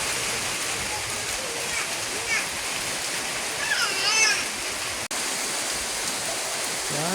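Heavy rain pours with strong wind, a constant dense hiss close to the microphone, with a brief voice faintly audible beneath the downpour.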